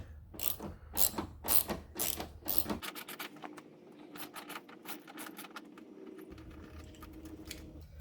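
Ratchet with a 10 millimeter socket working on a 2006 Kia Sedona headlight, a run of loud rapid clicking bursts up close, then a quieter stretch of softer ticking and faint mechanical rattling.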